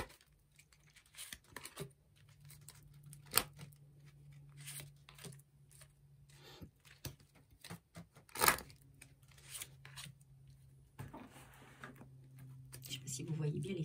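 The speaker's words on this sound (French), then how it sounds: "on va tirer 5 cartes" Tarot cards are shuffled and drawn by hand, with soft papery rustles, flicks and sharp snaps scattered through the stretch while a low hum runs underneath.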